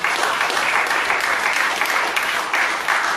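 A church congregation applauds loudly and steadily for a few seconds, with a dense, sustained clatter of many hands clapping together.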